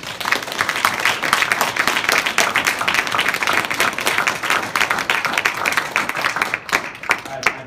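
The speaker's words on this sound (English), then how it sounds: "I did not anticipate your applause" Audience applause at a keynote presentation during an agricultural week event, dense steady clapping throughout from a sizable crowd, loud and sustained, tapering slightly near the end.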